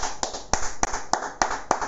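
Slow, deliberate hand claps, about six evenly spaced sharp strikes, close and fairly clear over a low background, without speech.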